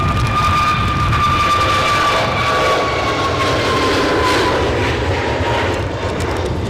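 A KLM jet taking off from a wet, gusty runway at Edinburgh Airport, a loud, sustained engine roar with a rising whine, heard close and dominating throughout.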